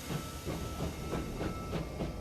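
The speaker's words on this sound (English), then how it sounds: "We're riding in a train!" Train ride in the video game Clair Obscur: Expedition 33, a steady rumbling roll with rhythmic clacking pulses and a faint hiss, heard alone.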